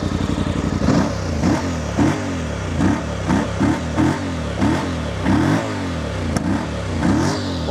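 Close, loud revving from a 2025 Voge 625 DSX motorcycle engine: about a dozen sharp throttle blips in an uneven rhythm, each dropping back toward idle with faint popping. No voices.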